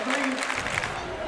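A basketball crowd at a Westlake versus Lone Peak game reacts loudly to a foul call, a brief surge of mixed shouting and clapping with a voice over it.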